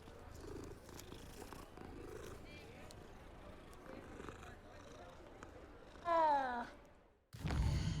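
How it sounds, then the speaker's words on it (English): A cat in the Hogwarts Legacy video game lets out a short, rising meow, then a low rumbling purr closes the moment, with quiet talking earlier on. "Oh, hi, kitty cat."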